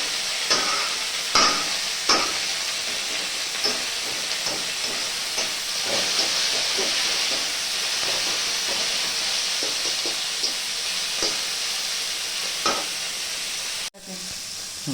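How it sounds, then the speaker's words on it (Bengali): Tomato and chopped coriander leaves sauté in a pan as masala for crab curry, a continuous loud sizzle broken by regular scraping spatula strokes; no one speaks. "টমেটো দিলাম ধনে পাতাটা দিয়ে দিলাম এটা একটু কষা কষা হবে"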